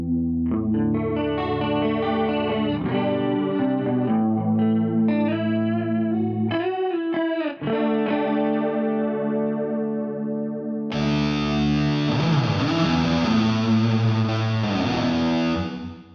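Electric guitar played through a free virtual Soldano SLO 100 amp with a chorus effect, sustained distorted chords and notes with a shimmering swirl, loud and continuous, then a brighter, grittier strum near the end.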